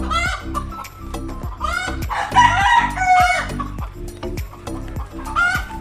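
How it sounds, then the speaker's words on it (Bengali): Desi hens on a chicken farm cluck in repeated bursts, some sitting indoors to lay eggs, while a rooster crows loudly and close by through the middle. "ঘরের মধ্যে কিছু মুরগি আছে যারা ওই ডিম পারবে বলে ভেতরেই আছে"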